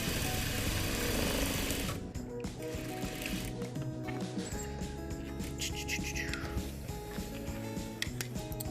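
A sewing machine stitches the fabric of a face mask, its motor whirring loud and steady up close, then settling into a lower hum with uneven bursts of stitching.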